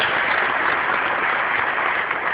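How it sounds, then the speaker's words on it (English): At a media reform conference, an audience applauds in a dense, even wash of clapping that stays loud and continuous from start to finish. "I just want to applaud them right now"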